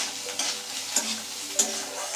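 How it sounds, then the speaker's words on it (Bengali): Chopped coconut fries in hot oil in a wok, a soft continuous sizzle punctuated by three distinct scrapes of a spatula as it is stirred, with no talking. "নারকেলটাকে ভেজে নিব"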